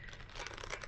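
A deck of playing cards is shuffled for solitaire, giving a soft, quiet papery riffling rustle that is close and brief, with no talking.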